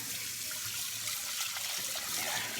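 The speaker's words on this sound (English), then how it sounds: "I have cold water running right now" Cold tap water runs into a kitchen sink in a steady, rushing hiss, close by and even in level, with no talking.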